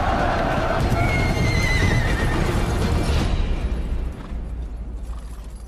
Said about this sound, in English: So we've got our five horsemen there, and I'm going to get them to come screaming up at you